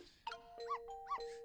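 Dog barking sounds in the Ghost Trick video game: a few short, faint barks with bright tonal, chime-like edges, spaced apart and heard alone with no talk.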